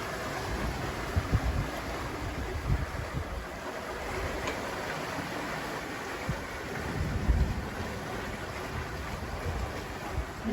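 Ocean waves wash around a sailing yacht on an Atlantic crossing, a steady broad rush of water with wind noise on the microphone and a few louder surges breaking through, continuous and close throughout with no talk.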